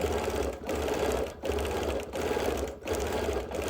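Sewing machine stitching a zigzag quilting pattern over busy printed fabric, a fast, steady, close mechanical whir running in bursts of about a second, separated by short pauses, with no talking.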